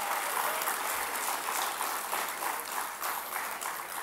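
Audience applause at a Malaysian National Youth Day 2015 ceremony as dignitaries are introduced, a dense, steady wash of clapping from a large crowd that holds evenly for about four seconds with no voices over it.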